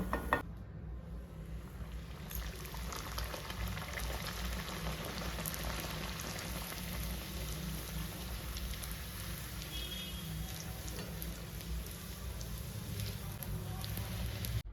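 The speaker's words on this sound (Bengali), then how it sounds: "এইভাবে আমি সবকটা ভাটুরা ভেজে নেব" Bhatura dough frying in hot oil, a dense bubbling sizzle that holds steady and fairly faint throughout, with no clear voices.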